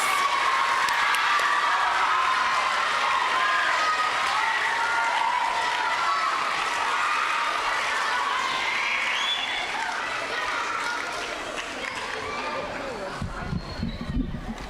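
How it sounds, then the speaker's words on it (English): Sustained applause from a school awards ceremony crowd honoring sixth graders, steady clapping with some cheering mixed in, fading slightly toward the end. "let's give our sixth graders a round of applause"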